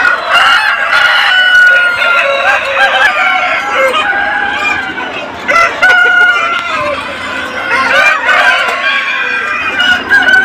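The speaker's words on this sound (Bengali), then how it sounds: "তো এইগুলো হচ্ছে আমাদের মোরগ মুরগি" Roosters and hens in a controlled poultry shed, with repeated loud crowing calls overlapping busy clucking and cackling, close and continuous, with a faint voice in the background.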